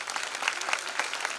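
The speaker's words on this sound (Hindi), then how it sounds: "तो एक बार पहले तो समिति के लिए ताली बजा दो" A crowd applauding steadily, dense rapid clapping from many hands that stays fairly even for the whole stretch.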